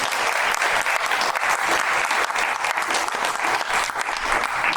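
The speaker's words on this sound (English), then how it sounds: "just a round of applause for both of those" An audience at a certificate presentation bursts into steady, dense clapping that holds at an even loudness throughout, with no voices over it.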